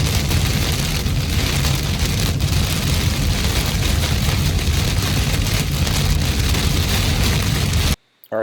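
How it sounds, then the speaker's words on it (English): Heavy rain pours during a West Texas storm as a loud, dense, unbroken roar that lasts almost the whole time and cuts off abruptly at the very end. "And there's the rain."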